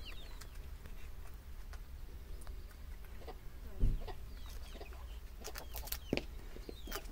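Chickens and a rooster in a coop in a Turkish village, settling in for the night: scattered clucks and short calls at moderate distance, with a faint buzz of insects behind them and no talking.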